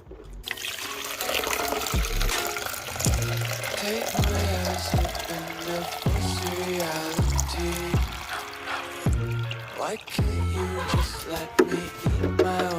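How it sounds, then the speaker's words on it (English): Water is poured steadily into a cup to measure ounces, making a close, continuous stream with a regular glugging pulse throughout. "we'll just keep track of how many ounces of water we've poured into here"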